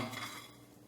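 A spoon scooping honey mustard crunch topping and piling it onto salmon, a short close clink and scrape of metal on dish, brief and soft.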